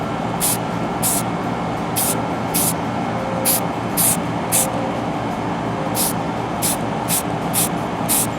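Spray paint hisses onto a tumbler in a series of short, quick bursts, about a dozen sharp sprays spaced roughly half a second apart, loud and close over a low background hum.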